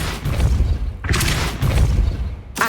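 Depulso spell cast in Hogwarts Legacy: a forceful whooshing burst with a booming thud, then a second sharp burst at the very end, all loud and close amid game effects.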